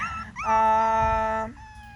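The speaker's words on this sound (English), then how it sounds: "I'm going to move and see if this pup will shut up and quit crying." Schnoodle puppy crying with a sustained, tonal whining howl that rises, holds for about a second and then trails into a softer whimper, close and alone.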